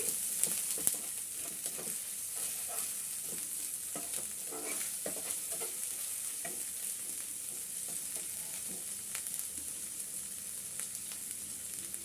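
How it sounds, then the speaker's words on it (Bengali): Ginger garlic paste fries in a pan with a steady, close sizzle throughout, while a spoon stirs and scrapes against the pan in uneven strokes. "আদা রসুন পেস্টটা কষিয়ে নিচ্ছি"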